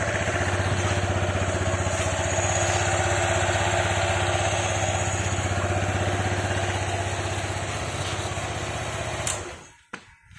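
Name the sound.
Honda ADV 160 scooter engine running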